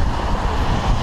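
Steady wind buffets the microphone with a low, rough rumble throughout the brief moment, loud and close, with no voices.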